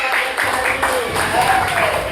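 A classroom of students claps in a quick, rhythmic pattern to reward a correct answer about food chains, with voices talking and calling out over the regular claps.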